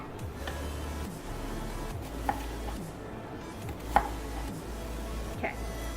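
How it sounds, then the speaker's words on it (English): Knife slicing vegetables into thin slices on a cutting board, a few sharp distinct chops spaced apart over a steady low background hum, fairly quiet and close. "Cut off the ends. And I'm going to cut them into thin slices."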